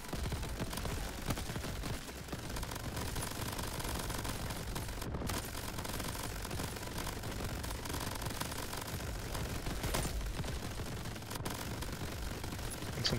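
Rapid gunfire from shooting in the crab roguelike shooter Crab Champions during an Ultra Chaos run against the King Skull, a dense, nonstop rattling barrage with mechanical clatter, loud and steady throughout with a couple of brief gaps.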